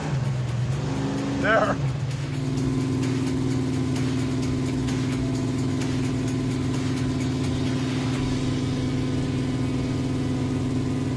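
Crop duster street machine car pulling hard in third gear, a steady loud engine drone with rising tone that fills the whole clip after a brief spoken word at the start.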